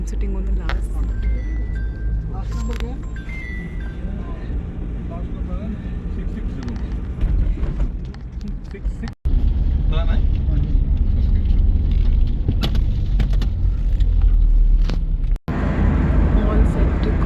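A car carries passengers along the road from Amritsar toward the Wagah border, giving a steady, loud, low rumble of engine and road noise. Two brief dropouts break the drone, and people talk inside the car over the sound.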